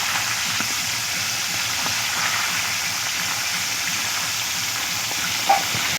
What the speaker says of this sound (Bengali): এই সাইডটাও ভালো করে ভেজে নেব।